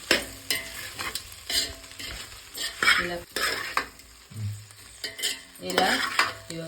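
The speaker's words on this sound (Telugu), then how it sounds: "బెండకాయలు ఇలా ఒక 10 నిమిషాలు మంచిగా నూనెలా గోలాలి." Okra frying in oil and being stirred in a pan, with a close crackling sizzle and repeated spatula scrapes and clinks coming in irregular bursts.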